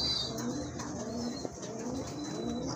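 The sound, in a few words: Beauty Homer pigeons cooing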